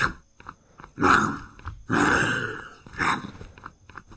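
Zombie groans and growls from the survival video game Unturned, several rough guttural bursts in sequence with short gaps between them, fairly loud and up close.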